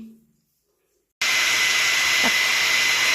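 A pet blower switches on abruptly after a moment of silence and runs as a loud, steady whooshing hiss while drying a freshly bathed dog.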